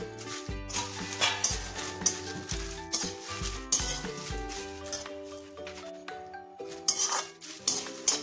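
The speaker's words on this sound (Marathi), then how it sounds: "आता मी भाजणारे तमालपत्र." Bay leaves dry-roasting in a pan for a homemade Marathwada red chilli masala, with a spoon stirring and scraping against the metal in repeated clinks and faint sizzle.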